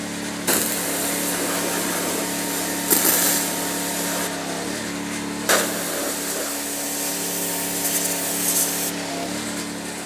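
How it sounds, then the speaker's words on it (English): A pressure washer blasts engine degreaser and grime off a Petter AB1 Kango diesel generator, a loud, steady close-up hiss and spray that runs almost without break, with a few brief sharper bursts and a low hum underneath. "So I'm going to put some engine degreaser on it, try and clean it up a little bit with a pressure washer"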